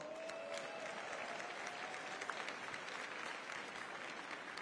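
A large union convention crowd applauds in a continuous, even roar of clapping, distant and quiet, with no pauses.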